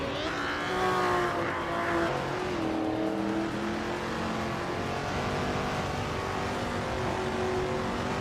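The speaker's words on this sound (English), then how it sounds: "Cavanone is starting on pole with a classic 1965 Lamborghini 400 GT." Video-game race cars, including a classic 1965 Lamborghini 400 GT, roar together at the start of a race, a continuous blend of revving engines with rising and falling pitch and no talk.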